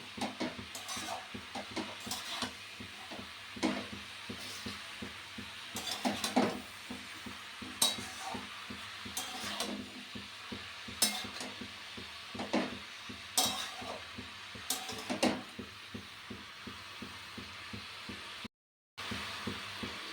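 Ginger and fennel paste stirred into palak ghonto in a pan, with repeated scraping and clinking spoon strokes against the pot over a soft, steady sizzle, close and fairly quiet, with no voices.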